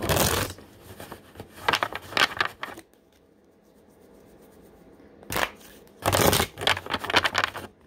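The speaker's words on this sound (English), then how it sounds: "I'm gonna start with some animal oracle cards." Animal oracle cards being shuffled by hand: crisp bursts of riffling and flicking at the start, a quiet pause, then another burst of rapid card shuffling near the end.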